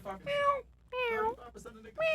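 A man imitates a cat, drawing out a few wavering meows in quick succession, close and fairly loud.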